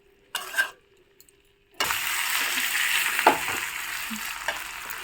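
Chicken sizzles and fries in a pan, a short burst of stirring followed by a steady, close sizzle that continues for several seconds with occasional scraping clinks.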